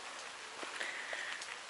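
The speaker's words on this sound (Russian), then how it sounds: "Тут дождик не будет их мочить, потому что все листвой укрыто." Rain falling on dense leaf canopy in a botanical garden in August, a soft, faint, steady patter with scattered drops and a distant bird chirp.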